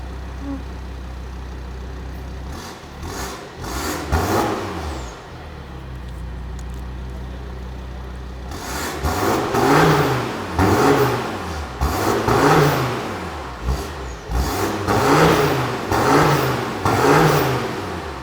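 A Volvo D5 diesel car engine idles, then revs repeatedly in rising and falling surges, close and loud, with a short quieter idle between bursts.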